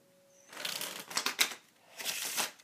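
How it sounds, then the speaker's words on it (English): Two short bursts of a one-handed card shuffle, cards riffling and snapping together, close up and fairly soft, separated by a brief pause. "I'm trying to work on the one-handed shuffle"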